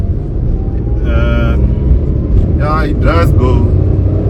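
A Renault Kwid's small engine pulls in second gear under throttle, a low droning rumble that rises as the car accelerates, with a person talking over it inside the cabin.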